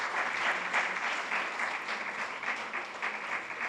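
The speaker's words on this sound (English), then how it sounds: "Ms. Sumita Ghose, could we have a round of applause, please?" An audience at a panel discussion applauds a panelist being handed a token of appreciation, with dense, sustained clapping throughout at a fairly close, even level.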